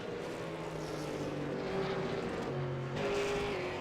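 V8 Supercars racing at the Nurburgring in the iRacing video game, a steady loud engine drone with shifting pitches as cars pass, swelling near the end.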